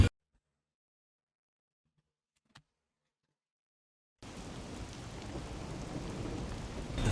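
Near silence and a single faint click, then heavy rain with thunder in the video game Master Detective Archives: Rain Code abruptly begins and keeps pouring with a low rumbling undertone, growing slightly louder.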